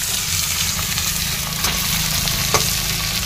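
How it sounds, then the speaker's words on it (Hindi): Onions fry hard in hot mustard oil, a loud, continuous sizzling hiss with a couple of faint stirring scrapes and clicks, no voices over it. "ये देख सकते हैं तेल में मैंने प्याज डाल दिया हूँ और क्या ही मस्त तरीके से फ्राई हो रहा है"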